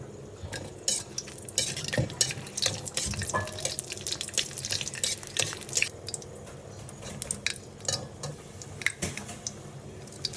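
Whole spices, dried red chillies, bay leaves and cardamom pods, hitting hot oil in a pan for mango chutney, giving a crackling sizzle with irregular clinks and scrapes of a spoon against the pot, close and busy throughout.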